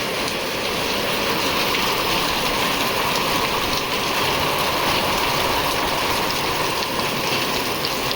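Sudden rain in a village pours down steadily as dense, continuous hiss and patter on surfaces, loud and even throughout, with no voices.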